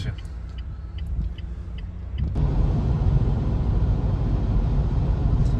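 A car drives along a road in Poland, its low tyre and engine rumble steady, then swelling louder after about two seconds and holding as a continuous close roar.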